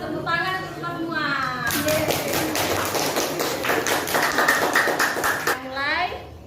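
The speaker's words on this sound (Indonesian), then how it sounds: "Tepuk tangan untuk kita semua." A class of Indonesian schoolchildren claps together in a steady burst of applause lasting a few seconds, framed by a teacher speaking just before and after.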